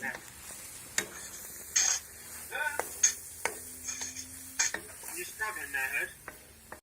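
A pan sizzles over a campfire at a garden campout as spices go in, with soft frying hiss, scattered clinks and stirring scrapes, and people talking intermittently nearby.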